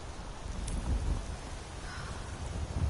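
Rainfall in the Skyrim video game world, a soft, steady patter with low rumbling swells and a faint distant call near the start, no voices over it.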